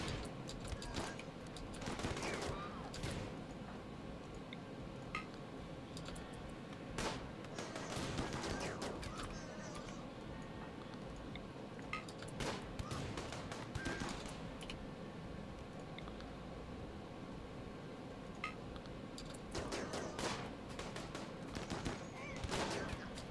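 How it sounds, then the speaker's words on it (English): Rimworld turret pack gunfire, a battle in the colony game with steady, rapid clusters of gunshots and bursts of automatic fire throughout at moderate level. "We're going to have to throw that turret pack in a hot second here."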